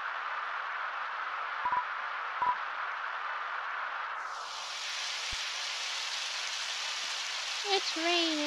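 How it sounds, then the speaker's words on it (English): Steady hiss of falling rain in the game Undertale fills the clip, with a few soft clicks and a brighter rush of rain swelling in halfway through; a faint voice appears near the end. "It's raining, it's pouring"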